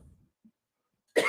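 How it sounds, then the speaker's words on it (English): A single harsh cough bursts out near the end of a mostly quiet stretch, close and loud, with only a faint murmur before it. "I'm going to be coughing all night, essentially."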